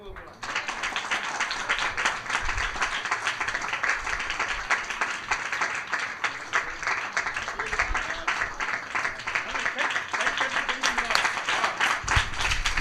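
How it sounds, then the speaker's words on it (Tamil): Congregation clapping hands together in a church service, a dense continuous patter of many claps sustained at steady loudness throughout, with voices mixed in underneath. "நல்லா கைத்தட்டுங்க."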